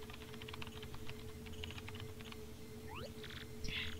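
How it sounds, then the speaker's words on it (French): Keyboard typing in the Paper Mario: The Thousand-Year Door video game: a rapid run of light clicks over a steady low game hum, followed by a rising electronic chirp and a couple of bright message-sent tones. "Saisis ton message et l'adresse du destinataire sur le clavier devant moi."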